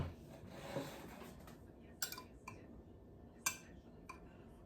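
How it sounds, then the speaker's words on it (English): A knife scrapes and clinks against a baking pan while cornbread yeast rolls are cut apart, giving a few sharp metallic taps and short scraping strokes, close and fairly quiet, with no talking. "I need a knife to separate them."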